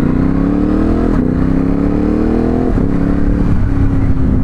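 Ducati Hypermotard 950SP motorcycle engine revving loud and close, pitch climbing in repeated pulls with brief drops between throttle blips, no talk.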